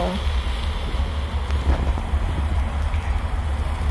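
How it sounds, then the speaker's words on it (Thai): Cool wind blows steadily across an outdoor microphone, a continuous low rumbling rush with gentle surges and no talk. "ลม ลมเย็นมอยมอยแล้วเนาะ"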